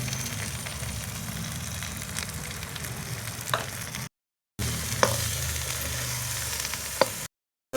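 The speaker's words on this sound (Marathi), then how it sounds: "आता हे पुरण चांगलं परतून घ्यायचं." Puran lentil filling stirred and fried in ghee over a wood-fired stove, a steady sizzle with occasional scrapes of the spoon, close up, broken by two short silent gaps.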